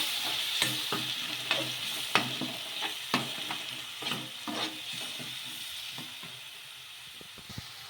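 Onions and blended tomato paste sizzle steadily in a pan for a pasta sauce while a spoon stirs, making repeated close scraping strokes over a constant hissing fry.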